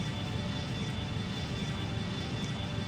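A Boeing 757 engine in the flight game Extreme Landings Pro, a steady, dense jet roar with a faint high whine, even and unbroken throughout.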